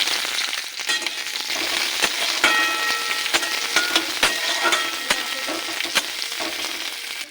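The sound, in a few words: chopped onion frying in hot oil in a wok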